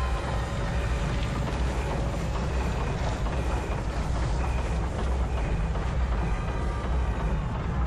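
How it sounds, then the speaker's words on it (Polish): Train rumbling through a level in the video game Alice: Madness Returns, a steady, loud low roar of rolling wheels and rattling carriages with faint clacking, continuous for the whole stretch with no talk. "Okej, to jest ten pociąg."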